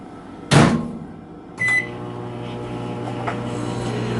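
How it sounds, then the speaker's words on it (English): A microwave oven warming honey: a door clunks shut and a button beeps, then the oven starts up and settles into a steady, close, low hum with a faint click partway through. "I'm going to throw it in the microwave for an add 30"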